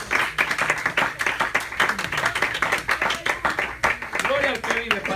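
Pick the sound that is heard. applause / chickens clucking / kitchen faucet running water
applause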